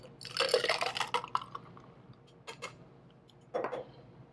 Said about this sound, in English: And a pour into our Collins glass.